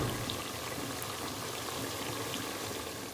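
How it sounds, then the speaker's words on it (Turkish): Potatoes and eggs boil in a pot of water, giving a steady, dense bubbling and hissing that carries on evenly throughout with no voices. "Şöyle patatesimiz ve yumurtamız da kaynıyor."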